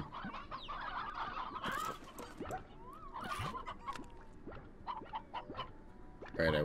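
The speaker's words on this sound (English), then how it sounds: "Right, I was looking for chickens, wasn't I?" Chickens cluck and squawk in the Slime Rancher video game, several birds calling in overlapping bursts at close range, loud and busy throughout with no talking.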